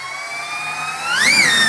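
Small electric motors on a 3D-printed RC VTOL jet hum steadily with rising whine harmonics, then spin up sharply with throttle near the end, a close, bright motor whine rising in pitch.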